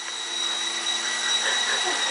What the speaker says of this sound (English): He's flying a helicopter.